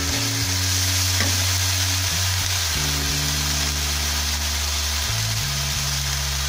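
Ginger garlic paste and onions, with green chillies, sizzle and fry steadily in a pan for a Bengali prawn malaikari, with a few stirring scrapes and a steady hum throughout.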